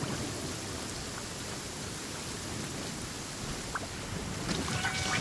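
Heavy rain pours down in a Genshin Impact storm scene, a constant dense hiss of droplets with a low rumbling wash underneath, steady and enveloping, with a few faint chimes near the end.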